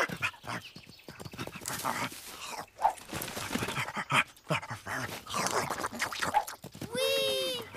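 A dog whimpers and barks amid busy background noise and movement, ending with a clear high-pitched whine.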